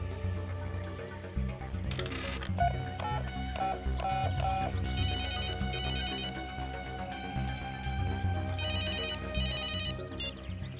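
Mobile phone ringtone playing a bright electronic melody after its number is dialed, heard over loud background music in a police crime drama scene, with repeated tonal bursts throughout.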